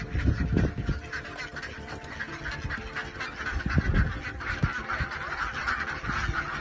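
Ducks stepping out into snow, giving a run of honking quacks at close range over a constant background hiss, with the calls repeating irregularly throughout.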